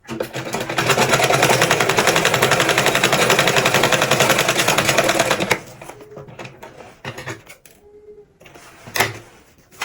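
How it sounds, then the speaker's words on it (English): Sewing machine rapidly stitching fabric for a padded turban, a fast steady mechanical rattle for about five seconds, then stopping and leaving a few faint handling clicks. "So now we are going to sew this part down. Just tiny stitch, just sew it straight."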